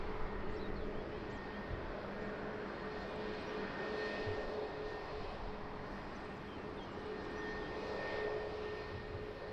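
An airliner on final approach to Lisbon Airport drones as a faint, steady distant engine roar that stays even from start to end, with no talking.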